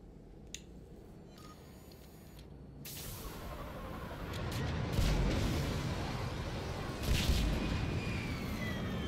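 Sustained rumbling battle din from Mass Effect 3, with bursts of gunfire and heavy explosions swelling around the middle and again near the end, loud and continuous with no talk over it.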